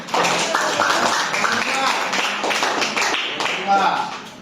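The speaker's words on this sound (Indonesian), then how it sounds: "Ya, tepuk tangan." Schoolchildren in a classroom clap their hands in a quick patterned rhythm, bursts of sharp claps close by, with voices talking over the clapping.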